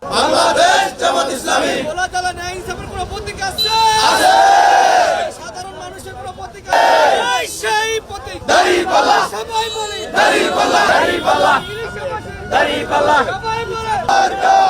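Jamaat party activists at an election campaign rally in Bhola, Bangladesh, chant slogans for the scales symbol: a loud, close crowd of voices shouting in unison, continuous and rhythmic with brief dips between chants.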